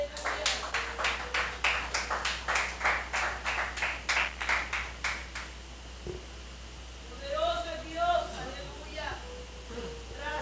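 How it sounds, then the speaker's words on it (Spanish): Spanish-language church congregation clapping for the Lord in a steady rhythmic run of claps for about five seconds, then falling away to scattered voices and brief musical tones. "¿Cuánto le dan palmas al Señor?"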